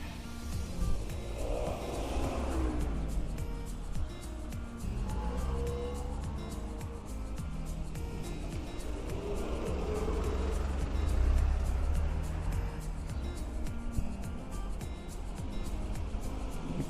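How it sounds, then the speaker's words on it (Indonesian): Morning car traffic on a street in Japan, a steady broadband rumble of passing vehicles with engine drone and tire noise, swelling slightly as nearer cars go by, with no talking. "Di pagi ini cukup lumayan macet, lumayan padat ya untuk kendaraan mobil."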